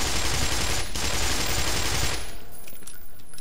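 In the Black Mesa video game, SMG gunfire rattles as a dense, loud, sustained burst for about two seconds. Sparser crackling shots and echoes trail off afterward.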